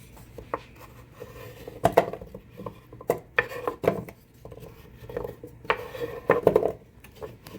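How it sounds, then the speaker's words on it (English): Potatoes tumble into a hot buttered pan for roasting, giving a run of scraping, clattering knocks and soft rustles against the metal, with sharper bursts near the start and end and no talking. "Pan nice and hot like this, we're ready to go in with our potatoes."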